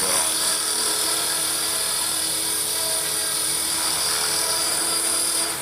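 A small Align T-Rex 450 electric RC helicopter hovers close by, its rotor and motor giving a steady, high-pitched whine that holds loud and even throughout with no talk over it.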